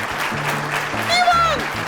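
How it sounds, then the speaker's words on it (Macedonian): A studio audience on a Macedonian TV show applauds, a steady wash of clapping over which a voice talks. "Аплодира зашто знаат кој е следен."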